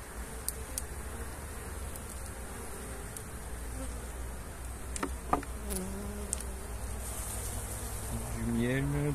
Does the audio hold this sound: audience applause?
no